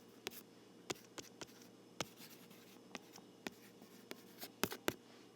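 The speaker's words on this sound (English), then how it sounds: "I'll write that up here." Pen writing on a paper page in a quiet room, a faint run of short scratchy strokes and taps at an uneven pace.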